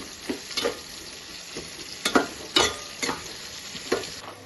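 Onions frying in a pan for Nellore sambar, a soft sizzle broken by about eight sharp spatula scrapes and tosses at irregular intervals, close by.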